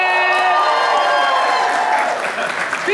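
Loud, dense applause mixed with cheering and whoops fills a press-conference room for Michael B. Jordan at the Black Panther event, sustained steadily throughout with no pause.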